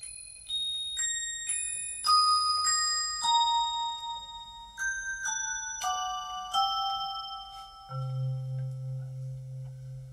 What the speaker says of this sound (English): I think I have a bell here.